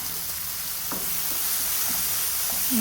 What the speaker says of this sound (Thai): เจียวไปให้มะเขือเทศเขาสุกนุ่มแล้วก็เละเลยนะคะ